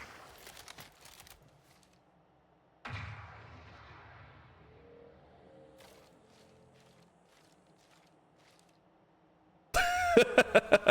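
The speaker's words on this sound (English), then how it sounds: "Okay, distraction grenade." A distraction grenade goes off in the video game Marathon as a sudden dull thump with a long rumbling decay, after earlier light clicks and steps, before a loud burst of rapid chirping game sounds at the end.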